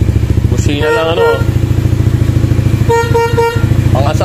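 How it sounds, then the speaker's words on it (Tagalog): A Yamaha NMAX V1 scooter with a stock horn honks in two short bursts separated by a pause, loud and close over a steady running engine, with people talking nearby. "Pangasar lang yung busina."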